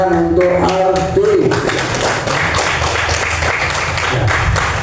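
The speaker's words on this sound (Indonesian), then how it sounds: "Tepuk tangan untuk Ardi." A classroom audience applauds a student, starting just after a brief voice and continuing as dense, steady clapping for several seconds, close and fairly loud.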